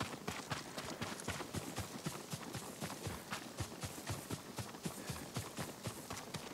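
A horse gallops in the Ghost of Tsushima video game, its quick, evenly spaced hoofbeats thudding on and on in a steady rhythm, faint and alone.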